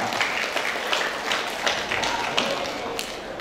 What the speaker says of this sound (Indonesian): tepuk tangan sekali lagi untuk Ibu Vera.